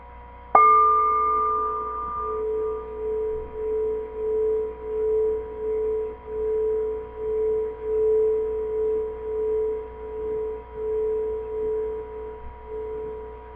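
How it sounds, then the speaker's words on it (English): A sound bowl is struck once and rings out with a sustained, shimmering tone that slowly pulses and wavers as it decays, alone in a quiet room. "This is my sound bowl. So just close your eyes and listen for a second"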